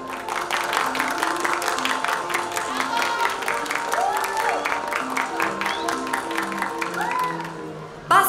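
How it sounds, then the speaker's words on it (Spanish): A circus crowd applauds with steady, dense clapping that runs the whole stretch, mixed with voices and tonal sounds, then cuts off near the end. "quiero que le den un fuerte aplauso."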